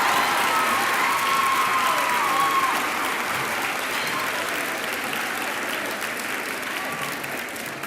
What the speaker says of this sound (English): Ms. Friedan, go ahead, clap.